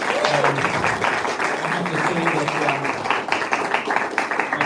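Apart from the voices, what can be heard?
audience applause for shoe shining contestants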